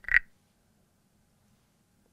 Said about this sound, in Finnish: Tää soitin on Sammakko Guiro.